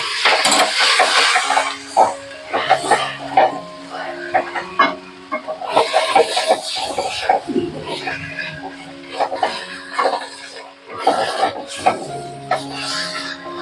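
Cabbage with ghee and spice powder is stirred in a metal pan, a spatula scraping and clinking against the pan in irregular bursts near the microphone while a voice talks and bird-like clucks sound in the background.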